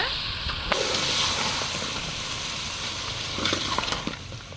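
Mutton gravy masala sizzles steadily in a hot pan as it is stirred and fried, a dense continuous crackle with a few scraping strokes of the spoon, close and moderately loud, no voices.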